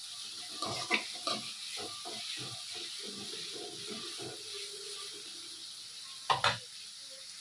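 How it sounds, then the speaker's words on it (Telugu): Onions and curry leaves fry in a pan for a dried fish and egg curry, giving a steady close sizzle broken by scattered scraping stirs and a couple of sharp clinks near the end. "ఇది కొంచెం రంగు మారే వరకు వేయించుకోవాలండి."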